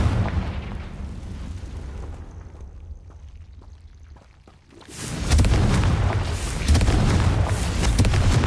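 Confringo blasting spell from a video game goes off as a loud, sustained explosive burst, following a quieter rumbling lull and then roaring on for several seconds.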